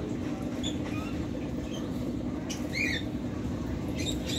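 Pet birds kept in a plastic-covered enclosure squawk just after being fed, giving a few short, shrill calls at irregular moments over a steady low background rumble, fairly close and with no talking.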